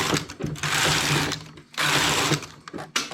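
A knitting machine working irregular ribbing, its carriage sweeping across in two long, loud mechanical passes with rattling and whirring, separated by short pauses and quieter clicks.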